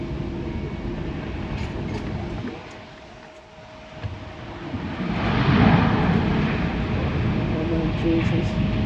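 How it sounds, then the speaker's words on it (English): An Air Canada airplane takes off at Tokyo Haneda airport: a steady low roar dips briefly, then swells louder and broader into a sustained rushing rumble, with a faint constant tone running underneath. "Air Canada's taking off of there"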